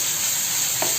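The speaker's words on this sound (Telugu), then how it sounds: "పచ్చివాసన పోయే వరకు ఫ్రై చేసుకోవాలి అల్లం వెల్లిగడ్డ పేస్ట్." Ginger garlic paste frying in a pan, a dense, even hissing sizzle throughout with a faint tap near the end.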